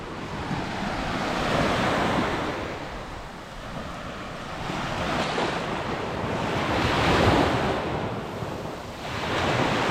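Ocean surf rolls in continuously at Mae Nam Beach on Koh Samui, breaking waves swelling and fading in broad washes under steady wind buffeting the microphone, with no voices.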